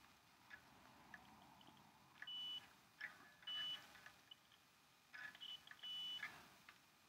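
A multimeter in continuity mode, testing bass guitar wiring, gives several short, bright electronic beeps in irregular bursts, some paired, over a quiet background.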